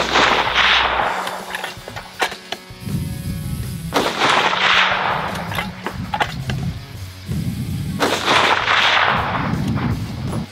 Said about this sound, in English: I'll take three shots,